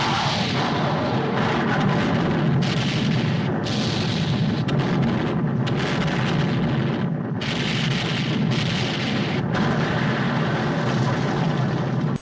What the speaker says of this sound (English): The bomb goes off,